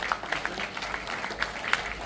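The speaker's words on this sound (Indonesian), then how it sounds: "Jadi tepuk tangan untuk para dirjen." An audience at an outdoor environmental festival event at a Depok school claps in scattered, moderate applause that continues steadily for about two seconds without cheering.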